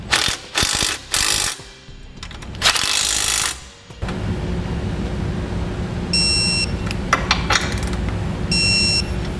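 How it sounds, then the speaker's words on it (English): Ratchet clicking as base plate bolts on a 2017 Chevrolet Spark are snugged and torqued, with several quick bursts of clicks early on, then a steady mechanical hum with brief beeps. "Now we'll get those snug down and torque to specification."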